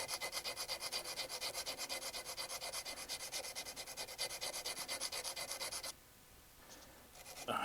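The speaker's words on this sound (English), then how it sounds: "let's sand it" Hand sanding of the wooden stock of a Remington 721 rifle: steady, rhythmic back-and-forth scratchy strokes, close and continuous, stopping abruptly near the end.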